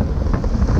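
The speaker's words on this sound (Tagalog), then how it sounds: "Lakas hangin." Strong wind buffets the microphone while riding a motorcycle, a loud, constant roaring rush filling the brief moment with no voices.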